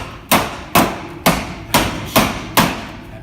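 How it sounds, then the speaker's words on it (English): A hammer strikes six loud, sharp blows at an even, steady pace while an air conditioner is being removed, each impact ringing briefly before the next. "Hammer the shit in."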